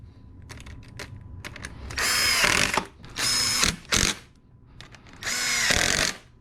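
Boot clamps on a 2002-2006 MINI Cooper S are tightened with a power tool, heard as three loud whirring bursts separated by short pauses, with light clicks and handling noises between them.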